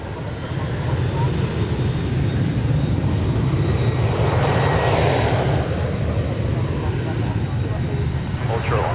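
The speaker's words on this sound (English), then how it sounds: "I see on the radar we've got a 777 headed our way, American Flight 2811 from Los Angeles." An American Airlines Boeing 777 jet inbound to DFW Airport from Los Angeles, a loud, steady engine roar that fills the whole clip, with a broad whooshing swell as it passes near.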